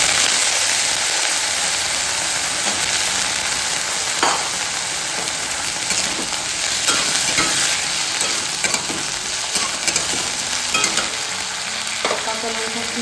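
Small-cut potatoes sizzle steadily in a pan for a vegetarian dish, loud and close, while a spoon scrapes and stirs them in repeated bursts.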